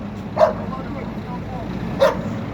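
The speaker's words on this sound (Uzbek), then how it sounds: "Mana yerda bitta kuchuk bachcha bor ekan." A puppy lets out two short, sharp yelps about a second and a half apart, fairly close, over a steady background murmur.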